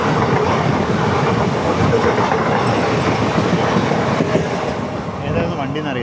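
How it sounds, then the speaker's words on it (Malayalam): A train rushing past on the opposite line beside a moving express coach, a loud dense roar with rhythmic wheel clatter that holds steady for several seconds before dipping briefly. "ഓപ്പോസിറ്റ് ലൈനിൽ ഒരു G9 ഹോൾഡ് ട്രെയിൻ വരുന്നുണ്ട്"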